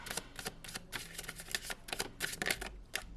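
Tarot cards being shuffled by hand, a quick run of crisp riffling bursts and soft slaps, close and fairly quiet, with no one talking.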